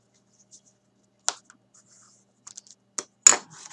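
Cardstock is scored for a handmade card kit, heard as a few short, dry scraping strokes and taps, close and quiet, separated by silence.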